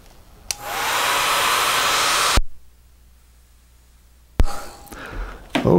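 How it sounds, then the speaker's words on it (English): A hair dryer drying a watercolor painting roars loudly for a couple of seconds and cuts off, followed by quiet, then another brief burst with clicks and breathy noise. "So let me get my hair dryer out."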